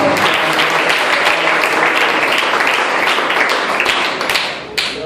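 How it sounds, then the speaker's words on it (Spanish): A congregation at an evangelistic church service applauds for Christ: dense, loud clapping sustained throughout, thinning near the end with one brief final burst. "Dale un aplauso a Cristo."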